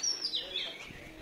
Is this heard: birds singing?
yes